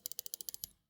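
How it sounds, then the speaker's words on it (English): Left and right click switches on a Waizowl Cloud gaming mouse pressed about ten times in quick, even succession. The crisp, close, isolated clicks stop before a short silence. "I will give you a sound test of the switches now. So that this is left and right click."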